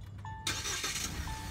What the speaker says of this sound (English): So I have started the car.